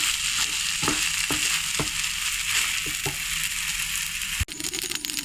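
Vermicelli frying with sugar in a pan, a continuous close sizzle broken by several sharp scrapes and clinks of a spatula against the metal, ending with a louder knock.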